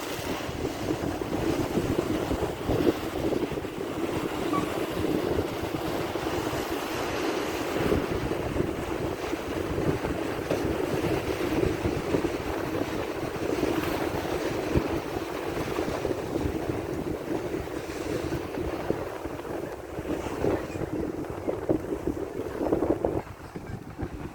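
Sea waves surge and wash continuously on the Büyükçekmece shore, mixed with strong wind buffeting the microphone; no voices.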